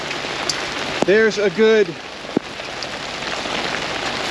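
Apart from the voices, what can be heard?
rain and hail storm falling on campsite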